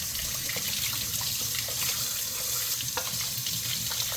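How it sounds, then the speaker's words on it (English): Whole snapper washed in salt water at a kitchen sink, with steady running water, splashing and handling sounds heard close up and no talking. "So wash the fishes in the salt for video purpose"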